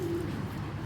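A one-year-old female racing pigeon of the Stephen Donker line gives a low, soft coo, one drawn-out note close by over a faint background hum.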